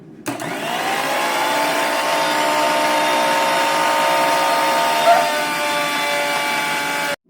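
Kitchen blender whirring steadily as Anya makes chutney in a timed cooking competition, a loud, even motor hum starting abruptly and running several seconds before cutting off.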